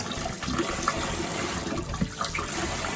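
Short ribs rinsed under a running kitchen tap, a steady close splash and trickle of water with small irregular bumps where the meat shifts in the stream.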